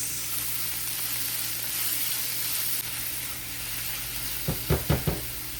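Chopped onion sizzles steadily in a pan of cooked garlic, a continuous loud hiss punctuated near the end by a few sharp knocks of a spoon against the pan.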